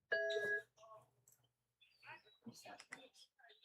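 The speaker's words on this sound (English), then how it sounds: "That's my phone notification." Short electronic chime of a phone notification, loud and tonal at the start, followed by soft clicks and quiet speech-like murmurs during a cricket match commentary.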